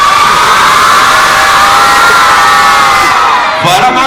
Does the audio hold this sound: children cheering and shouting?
yes